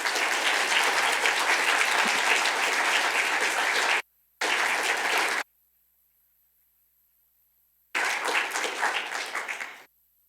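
Audience at a League of Women Voters candidate forum applauds the candidates, a dense, loud burst of clapping that breaks off briefly, resumes, stops, then returns in a final round that fades out.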